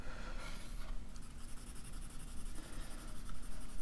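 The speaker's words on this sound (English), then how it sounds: "This blending stick actually works pretty good" A blending stick rubs very soft charcoal across drawing paper in a close, continuous papery scratching that rises and falls in short strokes, with no other sounds.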